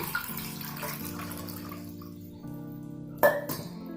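Water runs and pours steadily into a vessel while making rasam, with a brief clink of metal near the end.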